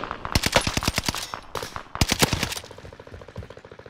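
Video game gunfire: rapid automatic bursts of crisp shots in two main volleys, a pause between them, then trailing quieter rapid shots, loud and close with no talking.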